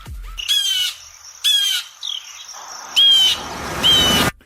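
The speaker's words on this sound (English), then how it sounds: "That's a blue jay." Harsh, raspy bird calls in four separate bursts with brief gaps, loud and near, with no one talking.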